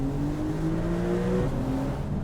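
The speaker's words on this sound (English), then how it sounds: "you get so much of it from the sport exhaust" A Porsche 992 Targa 4S with the optional sport exhaust drones steadily from inside the cabin, a low rising engine note with a brief dip in pitch partway through, loud and without talk.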